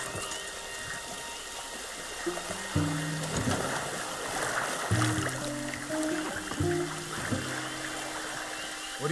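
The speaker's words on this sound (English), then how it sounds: "There should be some canoes down to the right here." Water sloshes and ripples steadily around a canoe paddling down a river in Red Dead Redemption 2, a continuous watery wash with a few low tonal swells rising over it, no talk.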